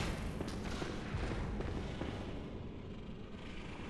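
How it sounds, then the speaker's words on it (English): Distant cannon fire booms in the video game Bloodborne as a dense, low rolling rumble that swells and fades, with no clear separate blasts and no talking. "a cannon or something over there."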